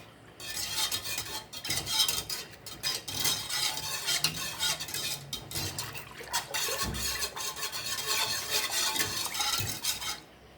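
Coconut and peanut punch with lime zest being stirred in a pot, a steady scraping and swishing with faint clinks of the spoon against the pot running throughout, close and fairly loud with no talk.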